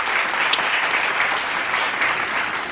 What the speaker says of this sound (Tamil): என்ன புரிஞ்சவங்க மட்டும் கைத்தட்டுங்க.